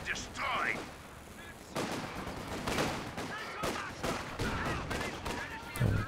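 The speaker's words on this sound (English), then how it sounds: "Oh, nice grenade." A grenade bursts in the Company of Heroes 2 battle, then gunfire and heavy booms hit in repeated sharp bursts, some loud and some farther off.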